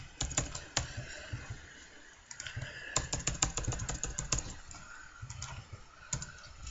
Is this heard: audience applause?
no